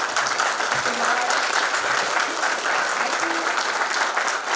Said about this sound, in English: I think we need a louder applause for the presence of Maharaj.